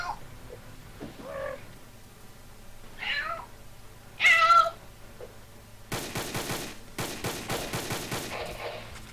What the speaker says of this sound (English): My cat was meowing. He was just meowing at me.